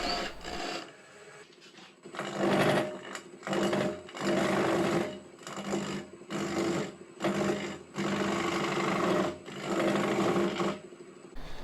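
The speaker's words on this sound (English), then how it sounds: "cut the pommel with the sharp long point of the skew chisel" A wood lathe spins a spindle for a baluster while a skew chisel's long point cuts the pommel, giving repeated bursts of close, loud rasping cutting separated by short quieter gaps.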